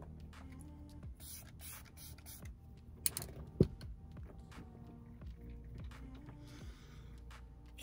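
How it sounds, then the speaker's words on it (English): A makeup setting spray from a Wet n Wild x Little Twin Stars collection gives a brief, sharp hissing mist at close range, standing out against faint background rustle and clicks. "That is a fine mist."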